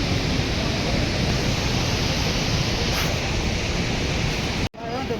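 Water rushes out from beneath a temple in Mana village, a steady, dense roaring wash that holds constant before cutting off abruptly near the end.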